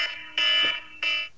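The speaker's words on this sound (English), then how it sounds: "That was my alarm." A phone alarm goes off with bright, buzzing electronic beeps in two bursts and a short third, loud and close, with no talk over it.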